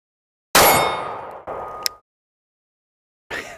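A Glock pistol fitted with a 22TCM conversion fires a single sharp, loud shot with a ringing metallic tail, followed by a second clanging impact and a brief burst of distant noise after a pause.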